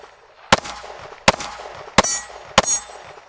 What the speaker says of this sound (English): So first up is my Glock 43X, 5 rounds